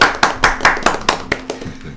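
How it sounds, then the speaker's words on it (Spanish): A few pairs of hands clap in a quick, steady rhythm for about two seconds at a talk on Gnosis. The claps are close and fairly loud, with no voices. "Aplausos, aplausos."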